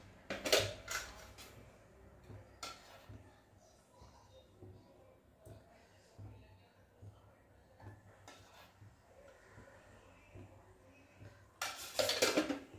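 A large kadhai (wok) clatters on a gas stove as it is set down and handled, with scattered metallic knocks and scrapes, louder clanks near the start and the end, and a faint voice in the background.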